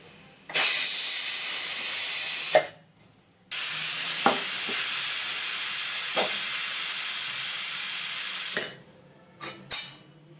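A pressure cooker cooking urad dal on a gas stove lets out loud, sustained steam whistles, two long hissing blasts separated by a brief gap, followed by short puffs as the release dies away.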